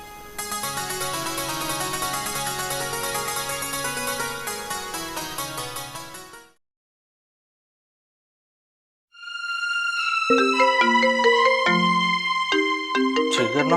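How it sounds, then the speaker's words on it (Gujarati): A phone ringtone plays loudly and melodically for several seconds, then stops, and after a pause of about three seconds it starts ringing again with a tinkling tune. "જીગરનો ફોન અત્યારમાં?"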